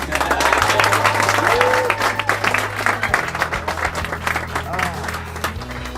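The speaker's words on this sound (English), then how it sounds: "Give an applause for that, please." A dinner crowd at a Barbados rum tasting event claps together, a dense burst of applause over steady background music, with some voices mixed in.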